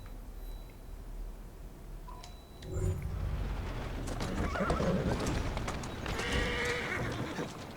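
A horse in the video game Assassin's Creed Syndicate neighs and whinnies, then its hooves clatter in a quick clip-clop rhythm over rising game ambience and street noise, moderately close.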